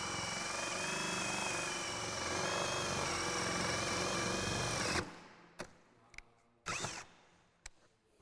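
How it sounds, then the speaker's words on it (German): A power drill fitted with a Forstner bit bores a large-diameter hole in wood during a camper van conversion, a loud continuous whine that stops abruptly, followed by a few short clicks and bumps. "Dafür benutzt die Schreinerin einen Forstner-Bohrer."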